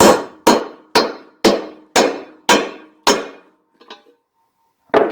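Seven sharp metallic hammer blows on a 9/16 deep socket knocking out a Harley primary seal, in a steady rhythm, each ringing briefly, then a faint clink, a pause, and one more strike at the end.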